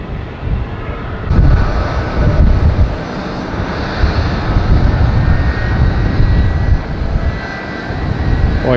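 A Boeing 767 jet roars loud and close on a short takeoff roll at Tampa airport, its engine noise swelling into a broad rushing rumble that holds steady throughout.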